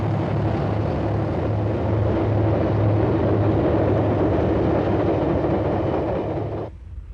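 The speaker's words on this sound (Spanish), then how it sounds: "Esta máquina serie diésel D341 fue el primer diseño de posguerra" Diesel train, D341 series locomotive, on a single-track coastal line by the Gulf of Taranto in southern Italy: a loud, sustained engine roar and rumble close by, cutting off abruptly near the end to a quieter hum.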